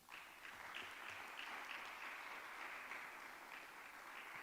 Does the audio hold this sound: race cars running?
no